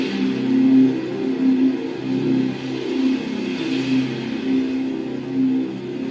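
Crown 32-inch LED TV with Android 12 playing sound through its built-in speakers, a steady loud stream of program audio with a pulsing low-mid rhythm that continues throughout with no talk over it.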